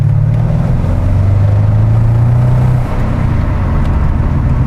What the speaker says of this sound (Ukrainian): ти їздиш і ти чисто слухаєш звук двигуна